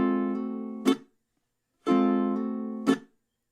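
A ukulele plays an up strum, a slide and a muted percussive chuck, then repeats the same three-part pattern once more, each ringing chord cut short by the chuck, with silence between the two, close and without talk.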